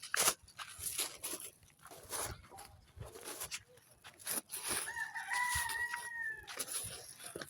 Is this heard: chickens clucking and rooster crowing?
yes